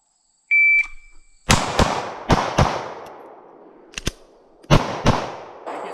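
Gunshots at self-defense shooting practice: a short electronic beep, then sharp, loud shots in quick pairs and singles, close and echoing, with silence between volleys.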